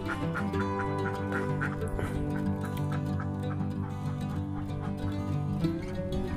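A flock of laying ducks on a duck farm quacks continuously and loudly, many overlapping calls forming a dense, close chorus with no talking.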